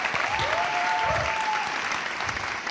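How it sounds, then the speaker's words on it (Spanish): A comedy monologue audience applauds a guest, giving a steady wash of clapping throughout, with a faint whistle-like tone gliding through the middle of it. "Un aplauso para Gemma, per favor."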